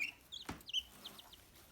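Young chickens on a farm give a few soft, brief clucks and chirps close by, quiet and scattered with short gaps between them.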